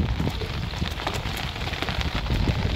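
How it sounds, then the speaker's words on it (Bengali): Rain falls steadily on a fishing boat on a river in the Sundarbans, Bangladesh, making a dense, even patter and hiss that stays loud and close throughout. "বৃষ্টি বৃষ্টি"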